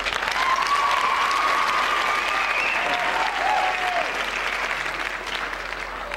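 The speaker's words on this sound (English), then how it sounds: "Let's give Maggie another round of applause." A school talent-show crowd in 1988 gives sustained applause after a performer, a thick, loud wash of clapping from many hands that holds steady, with a few whoops riding over it, before easing off near the end.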